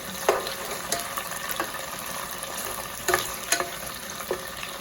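Steady loud sizzling of tofu frying in hot oil, with occasional pops and crackles throughout; no talking.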